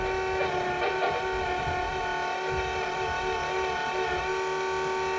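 An electric power steering pump from a Toyota MR2, fitted as a conversion, gives a steady close electric whine with a faint bogging dip as the steering wheel is turned.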